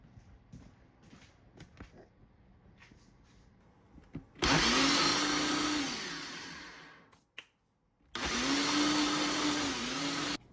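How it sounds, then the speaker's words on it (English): A countertop blender whirs loudly while blending a milk drink, running in two bursts of about three seconds each with a short pause between them, and no one speaks. "Take it over here to the blender."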